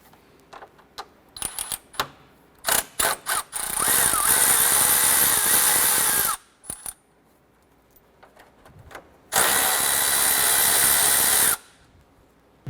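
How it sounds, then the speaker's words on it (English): A power tool backs out 10mm bolts holding the A/C condenser cooling fan on a 2008-2012 Honda Accord, two loud sustained whirring bursts separated by quiet gaps, with scattered clicks and metallic clinks of handling before and between, no talking. "Remove these two 10mm bolts."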